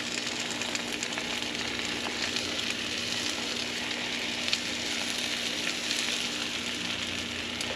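Slices of pork roll fry in a pan, giving off a steady, even sizzle with soft crackles. The sound is fairly quiet and close and stays unchanged throughout, with no voices.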